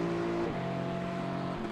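GT4 race cars at the Hungaroring in the iRacing sim hold a steady engine tone that drops abruptly as a gear changes, then holds again before another shift.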